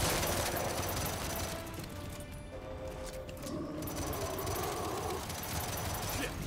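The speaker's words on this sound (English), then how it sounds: "I'm shooting these fuckers." Gunfire in the Gears 5 campaign, a continuous loud rattle of automatic weapons with rapid, dense bursts filling the whole stretch and a brief dip before the fire resumes.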